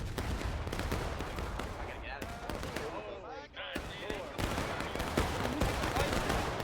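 Shotgun blasts in a House Divided campaign video game, repeated loud shots mixed into a busy gunfire battle scene, with a voice talking over the din.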